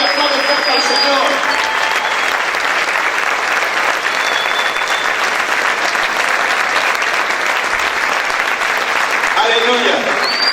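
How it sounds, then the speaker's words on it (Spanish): A large church congregation claps loudly and continuously during worship, a dense sustained wash of applause that stays steady throughout with faint voices mixed in. "Aplaude fuerte al Señor."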